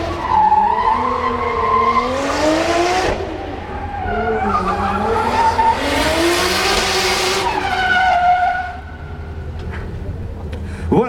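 A Nissan Skyline drift car slides around a track at a Luxembourg motor show, tires squealing loudly in long wavering bursts over the engine's roar. The squeals ease off near the end.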